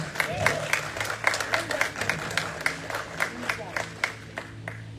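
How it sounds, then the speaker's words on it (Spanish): A church congregation claps, the rhythmic hand claps sharp and distinct over a low murmur of the crowd, moderately loud and close, with no clear speech. "Denle un aplauso al Señor si puede."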